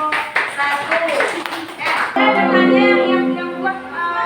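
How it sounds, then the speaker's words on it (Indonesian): Students in a ninth-grade Islamic religious education class clap for a group of classmates; a short burst of clapping under a speaking voice, then a teacher talks alone. "tepuk tangan untuk kelompok 1"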